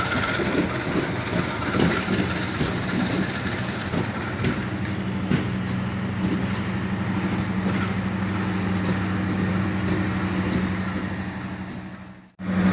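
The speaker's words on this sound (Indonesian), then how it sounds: "Kereta Erlangga dengan lokomotif CC 2018322 depo Induk Purwokerto, PWT Purwokerto kan ya, tiba di stasiun Pekalongan." The Erlangga train, hauled by locomotive CC 2018322 from the Purwokerto depot, arrives at Pekalongan station with a continuous heavy rumble and a low engine drone, with a few faint clanks, before the sound cuts briefly at the end.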